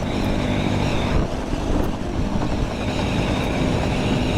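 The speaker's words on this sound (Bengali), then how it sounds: "এই যে ট্রেন যাচ্ছে" A passenger train rolls past near a small rural station in Natore, Bangladesh, slowing as it goes, heard as a continuous loud, close rumble and rattle without pauses.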